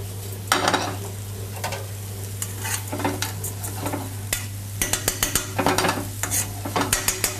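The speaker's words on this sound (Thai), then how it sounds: "จะเริ่มผัดข้าวครับ" Rice is stir-fried in a hot pan for risotto under a soft sizzle, with repeated scraping and clacking strokes of a utensil against the pan, irregular and close, with a low steady hum behind.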